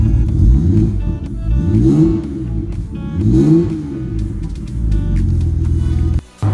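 A BMW E21 engine idles and revs with a deep, throaty exhaust rumble, loud and close, rising and falling in waves with a slightly rough, uneven note from a carburetor needing a rebuild.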